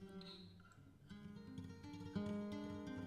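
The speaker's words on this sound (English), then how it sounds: "What you're hearing is the phasing." Sustained instrument tones pass through a reverb send whose dry portion is phased out, giving a soft, sweeping, hollow wash of chords that shifts and thickens over a few seconds at low level.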